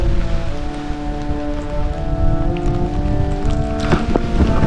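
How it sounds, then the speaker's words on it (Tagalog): Heavy rain pours down steadily while strong wind buffets the microphone at a mountain campsite during a storm, a loud continuous roar with a low droning tone underneath. "Sobrang lakas na ng ulan. Sobrang lakas din ng hangin"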